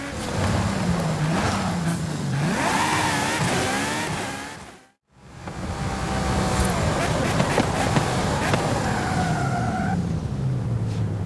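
Volkswagen Golf GTI engine in the racing game Forza Horizon 5, accelerating with pitch swooping up and down through gear changes, loud and continuous apart from a brief cutout midway.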